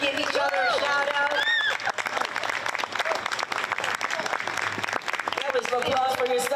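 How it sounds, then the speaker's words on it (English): A crowd at an outdoor summer concert applauds itself, steady dense clapping mixed with cheering and overlapping voices for several seconds, close and loud throughout. "That was applause for yourselves"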